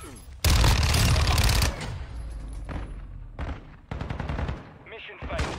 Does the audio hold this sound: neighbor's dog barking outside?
no